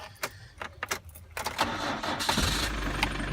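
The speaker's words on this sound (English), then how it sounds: "Put the key in. Turn her over." An old car's engine is cranked with the key, a few jangling clicks and starter whirs, then the engine catches and settles into a low rumbling idle close by.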